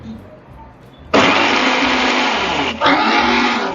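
A kitchen mixer grinder blends curd into a smooth paste, starting abruptly with a loud, close whirring roar that dips briefly and then resumes steadily. A voice speaks faintly before it starts.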